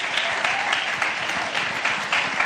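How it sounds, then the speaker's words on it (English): Audience applause for two panelists at a regenerative agriculture event in New York City, a dense steady clapping from a full room, sustained and fairly loud throughout. "Big round of applause for our 2 panelists,"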